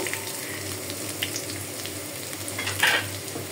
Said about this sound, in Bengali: এখন আমি পেঁয়াজটা ভেজে নিব।